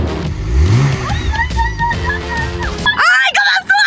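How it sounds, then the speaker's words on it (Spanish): A cold car engine is revved by pressing the accelerator partway, its rising roar climbing in pitch and then settling, loud and close, with excited voices talking over it near the end. "quiero ver cómo se escucha el coche"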